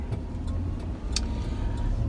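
Steady low engine and road rumble from inside a truck cab on a drive to the gym, continuous and close, with a few faint clicks and ticks and no talking.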